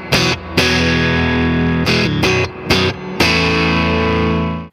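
Danelectro 66BT baritone guitar through heavy distortion, a few thick, sustained chords struck with short gaps between them, loud and close with no talk.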